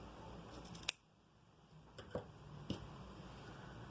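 Scissors cut thread while making a round bag, giving three crisp, quiet snips spaced apart against a soft room background.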